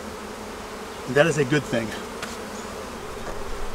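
Honeybees swarm and hum around an opened hive during an inspection in a bee yard, a steady close buzz with a voice briefly speaking over it.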